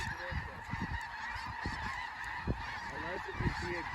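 A flock of snow geese honks continuously during a South Dakota hunt, many overlapping calls near and far forming a steady noisy chorus with occasional louder honks standing out.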